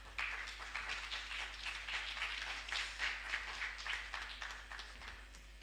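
Applause rises from the audience at a symposium on the Jamaican language for its presenters: a soft, distant patter of many hands clapping steadily throughout.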